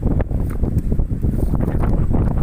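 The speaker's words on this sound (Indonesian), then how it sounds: "Kita mendengarkan juga suara angin yang kencang ya, suara angin kencang yang meniup" Strong wind blows across a hillside porang tuber field, buffeting the microphone in loud, gusty low rumbles that continue without pause.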